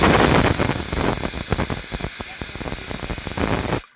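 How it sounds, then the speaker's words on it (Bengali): A pressure cooker whistle vents steam in a loud, continuous hiss close by for almost four seconds, with a faint pulsing flutter, then cuts off abruptly into silence. "এই যে দেখুন এখানে প্রেশারের সিটি পড়েছে"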